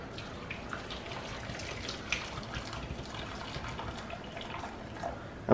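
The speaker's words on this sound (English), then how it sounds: "what we're going to be doing is adding the hot water to our potatoes" Hot water is poured over potatoes for homemade potato chips, making a steady splashing, gushing pour close by that holds level throughout, with no talking.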